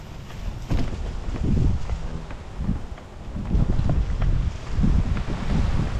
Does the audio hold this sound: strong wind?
yes